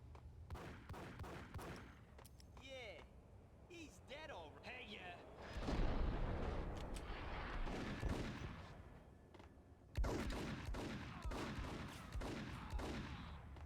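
Gunfire in Max Payne, with repeated booming shots and bursts over the game's rumble, heard under people talking at several points.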